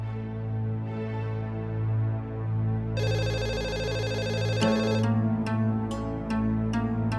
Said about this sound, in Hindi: अरे फोन तो उठा।